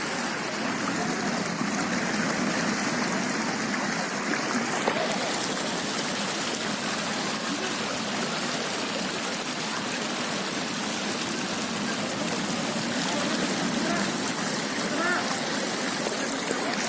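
Floodwater rushing near a beach in Kozhikode after the water rose inland: a continuous broad watery roar, steady and moderately loud, with no voices heard.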